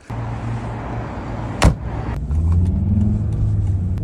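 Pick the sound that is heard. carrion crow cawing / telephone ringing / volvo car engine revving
volvo car engine revving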